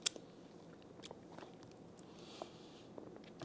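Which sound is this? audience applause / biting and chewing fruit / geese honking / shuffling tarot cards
biting and chewing fruit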